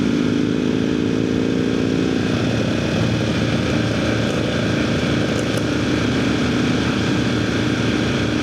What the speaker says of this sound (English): Everybody needs a motorcycle in their life.